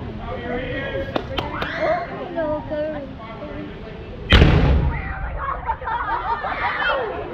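A cannon is fired during a living-history demonstration at Sutter's Fort State Historic Park in Sacramento, California, giving one loud, sudden boom midway that follows crowd chatter and a countdown called out by voices.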